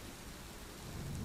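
A rain and thunderstorm effect plays: steady, dense rainfall hisses evenly while a low rumble of thunder swells toward the end, with no voices.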